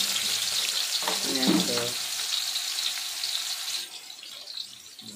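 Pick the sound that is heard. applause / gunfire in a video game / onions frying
onions frying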